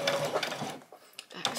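Sewing machine backstitching around a bag at close range, a brief quick mechanical whirr of stitching that fades into a few softer clicks and taps, with a voice talking over it.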